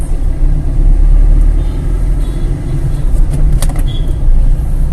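Busy night road traffic near the Erode bus stand in Tamil Nadu: a loud, dense rumble of engines, including buses, close by, with a few brief sharp sounds rising out of the steady roar.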